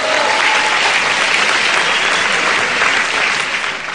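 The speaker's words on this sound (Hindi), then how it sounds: "एक बार जोरदार ताली होनी चाहिए उनके" An audience at a stage event breaks into loud, sustained applause, a dense crowd of clapping hands that stays even and close before tapering slightly at the end.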